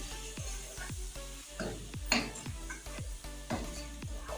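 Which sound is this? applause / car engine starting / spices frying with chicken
spices frying with chicken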